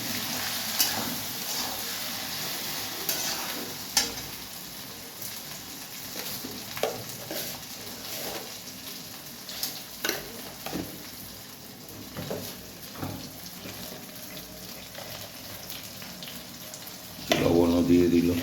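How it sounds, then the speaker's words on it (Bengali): Onion, ginger, garlic and tomato frying in a pan, a steady close sizzle broken by repeated scraping stirs and clinks of a spoon, with a louder burst of sizzling near the end and no talk. "এখন আদা রসুন টমেটো দিয়ে দিচ্ছে, দিয়ে আর একটু ভালো করে ভাজা ভাজা করে নেবে।"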